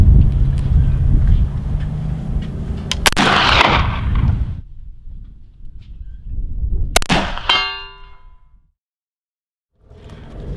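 A Springfield Model 1873 Trapdoor rifle fired twice, each a sharp loud blast with a metallic ring, the second followed by a ringing tail, then a stretch of near silence before faint sound returns.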